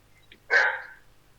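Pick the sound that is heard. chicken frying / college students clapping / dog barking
dog barking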